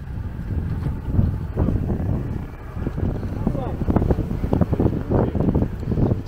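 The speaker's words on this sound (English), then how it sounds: "It's very windy here." Strong wind gusting at a Jamaican beach, a steady loud roar with buffeting bursts across the microphone, and voices mixed in underneath.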